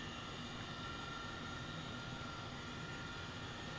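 Helicopter engine in Flight Simulator 2020 throttled fully back over London, a steady broadband whine and rumble holding at an even level throughout, with no voices.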